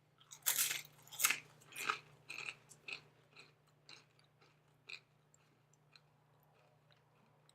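Crisp crunches of a Paqui spicy tortilla chip being bitten and chewed, loud sharp cracks at first that give way to softer, sparser chewing, close up and with no talk.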